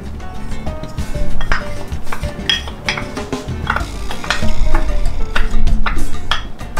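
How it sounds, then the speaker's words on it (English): Salsa is tipped into a pan on a stove over medium heat, bringing clinks and scrapes of a utensil against the pan with a light sizzle beneath, busy and close. "We're going to start by adding our salsa."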